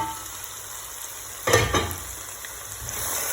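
Spices and salt stirred into Mahoran pilau frying in a pot: a steady soft sizzle broken by a brief burst of scraping and stirring in the middle.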